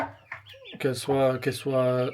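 Hens cluck inside a calm henhouse, close and fairly loud, in a run of throaty, drawn-out calls with short gaps between them.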